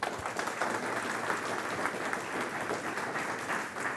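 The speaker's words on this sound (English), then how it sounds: "Let's give them a round of applause." Audience at an evening shark research talk breaking into steady applause, an even round of many hands clapping, fairly soft and continuous throughout.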